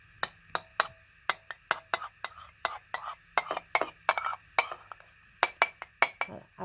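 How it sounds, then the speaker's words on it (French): A cucumber gel mixture is stirred in a bowl, a utensil clinking against the sides in quick, irregular taps that come close and fairly light, with a faint hum in the background. "Vous mélangez le tout."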